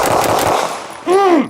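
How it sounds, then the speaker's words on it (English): A quick burst of rapid rifle shots cracks loudly at a SWAT academy shooting course, followed by a short ringing whine. "you only fired a total of 10 rounds"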